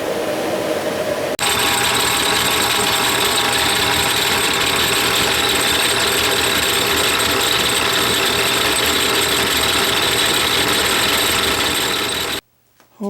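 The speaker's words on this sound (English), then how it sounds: "now we're going to chuck it up in the lathe" A lathe turning down a shaft from a 1969 Camaro manual steering box to fit a bushing, a loud steady mechanical whir with a whining hum, starting abruptly and cutting off near the end.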